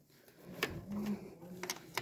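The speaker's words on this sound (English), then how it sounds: "I'm just tightening this bolt," Ratchet or wrench tightening a bolt and nut on a Renault Megane K4M engine, a few sharp metallic clicks and clanks close by over a low background hum.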